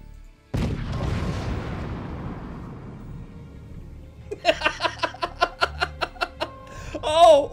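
A cannon fires in the video game Forts, one loud booming blast with a long decaying rumble, followed by a rapid rhythmic string of sharp tonal bursts and a rising burst at the end.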